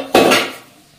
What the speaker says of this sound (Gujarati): તમે કઈ વાસણ ઉટકાવા લાગશો